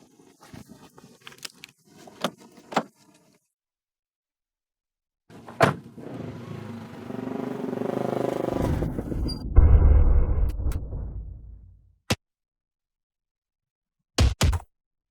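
A car approaches with a rising engine rumble that swells and fades, followed by sharp isolated thunks of a door shutting, with quiet gaps between.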